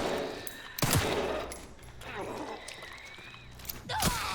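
Rapid gunfire from the video game Resident Evil Requiem, a few sharp bursts of shots near the start and end with quieter game ambience between, while a person talks over it.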